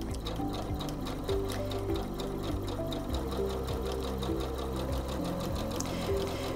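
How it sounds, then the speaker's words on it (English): A Singer C430 sewing machine runs a straight stitch, its steady, fast mechanical whirring and needle chatter continuous and close throughout, with no talking. "step on your foot control to begin sewing"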